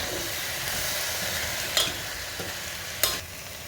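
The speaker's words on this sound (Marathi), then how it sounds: "हे व्यवस्थित मिक्स करून घेतलेलं आहे" A spoon stirs chopped red pumpkin, elephant foot yam, cluster beans and drumsticks for sambar in a pot, making a steady close scraping and sizzling with two sharper clanks partway through and no talk.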